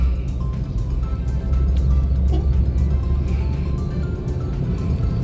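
Car engine and road noise from inside a vehicle driving behind a Sawantwadi depot ST bus on a Konkan road, a steady close rumble with faint passing sounds.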